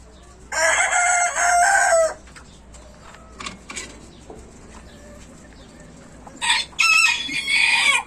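A Black Mottled Leghorn rooster crows loudly and close by twice, first one long crow and then a second after a quiet gap filled with soft clucks and rustling.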